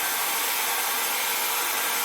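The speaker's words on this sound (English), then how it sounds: "Now I'm going to dry this with a hair dryer" A hair dryer blowing air over freshly painted rocks, a steady, close, unbroken whoosh of broadband airflow with no voices, holding level throughout.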